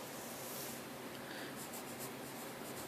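Pen or pencil writing notes on paper, a continuous soft scratching and rubbing close to the mic, faint against a hissy background, with no speech.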